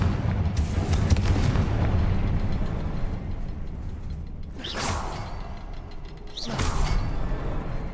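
Confringo fire spell blasts in the Hogwarts Legacy video game: two sharp whooshing bursts about two seconds apart, each swelling and fading over a steady low rumble of game ambience.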